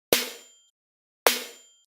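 A snare drum sample from a dance track drop strikes twice, each a punchy crack with a faint ringing tone that decays quickly into silence.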